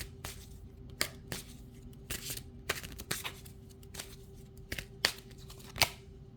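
Tarot cards being shuffled and drawn, a series of close, crisp riffling snaps and papery slaps at irregular intervals over a faint steady hum.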